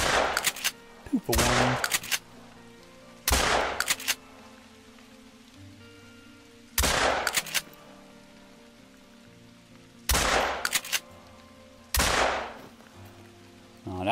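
Shotgun-like blasts from hunting European rabbits in theHunter: Call of the Wild: five or six loud, sharp reports spaced a few seconds apart, some in quick doubles, each trailing off into quiet outdoor ambience, with a brief spoken remark.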